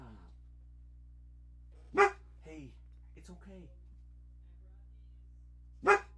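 A dog indoors gives two sharp, loud single barks several seconds apart, with softer yips and whimpers between them and a low steady hum throughout, while someone speaks to it calmly.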